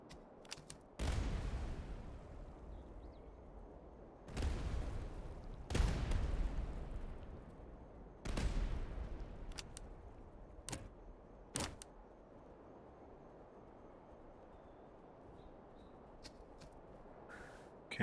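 Artillery firing in the Master of Command strategy game: several heavy booming shots at irregular intervals, each with a long rumbling decay, plus some sharper smaller cracks between them; no talking.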